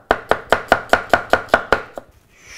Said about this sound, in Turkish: Sonuncu soğanımı da doğruyorum.